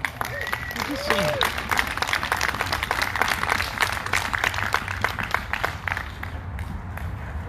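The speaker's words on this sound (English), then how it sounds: "Give a hand clap." Outdoor crowd at a voting rights rally applauding and clapping for a state representative, a steady dense patter of many hands sustained throughout at moderate level, with faint crowd chatter underneath.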